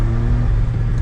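A Suzuki Cappuccino's small engine drones steadily while driving, a close, loud, low hum with a constant tone and road rumble beneath, with no speech.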